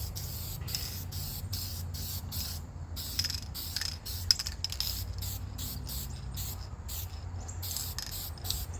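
Aerosol spray coating an engine head gasket, bursts of hiss repeating in short pulses through the clip at close range, with a steady low hum underneath.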